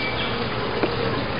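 Honey bees swarm around an open hive during an inspection, a dense, steady buzzing drone filling the air close by and fairly loud, without speech.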